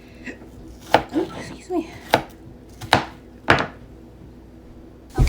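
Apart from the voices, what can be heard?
chopping onion with knife on board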